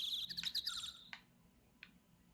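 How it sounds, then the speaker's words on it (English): Bird chirps from the Phoenix Wright: Ace Attorney game come as a quick burst of high tweets, followed by two short isolated calls over a quiet background, with no talking. "the birds are so confusing. Because they're so much louder"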